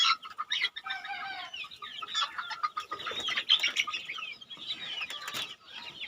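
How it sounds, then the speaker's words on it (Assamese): Young local desi chickens, about fifty days old, cluck and chatter steadily in a farm pen, with overlapping calls and occasional wing flaps, fairly close and loud, no talking. "তো এইফালেও আছে কেইটামান মুৰ্গী, দেখুৱাই আছোঁ আপোনালোকক।"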